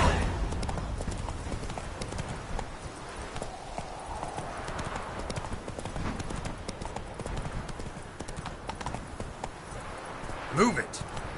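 Horse hooves clip-clop steadily at a walking pace in the video game The Witcher 3, with a brief louder whinny-like burst near the end and a voice heard over the hoofbeats.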